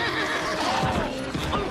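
A panicked horse neighs loudly in a desert crossing, a shrill whinny with a rising and falling pitch, close and continuous over faint hoofbeats, with no talk.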